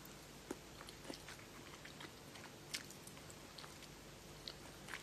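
Cold konjac noodles are eaten close to the mic, with soft, quiet wet chewing and a few sharper bites spaced through an otherwise hushed stretch.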